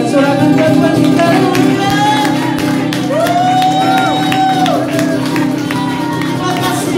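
A church congregation at a Sunday service in Balikpapan shouts and cheers in praise, a loud, continuous crowd roar with whoops and raised voices rising and falling throughout.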